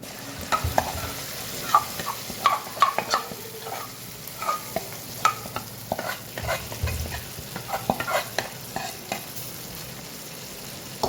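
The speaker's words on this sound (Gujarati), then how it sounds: "સાથે સાથે ઘી અને જે ખીરું છે આપણે એડ કરી લઈએ." Ghee and handvo batter go into a hot pan, giving a low sizzle with scattered scraping and stirring knocks from a utensil, fairly close and irregular, with no talking.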